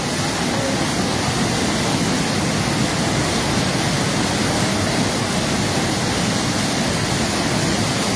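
Floodwater of the Khowai river in Habiganj surges past a breaching embankment after days of rain, a dense, unbroken roar that stays loud and constant throughout.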